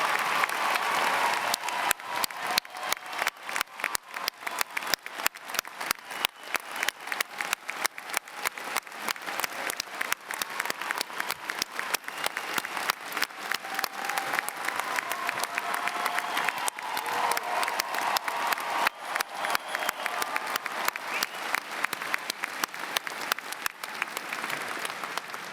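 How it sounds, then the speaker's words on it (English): Sustained, dense applause from a university commencement crowd honoring graduating ROTC cadets, steady clapping that holds at an even level throughout. "Lockwood, Stopford, Sponigal, Tesserero, so that we, a grateful Loyola community, can applaud you for your service to your country"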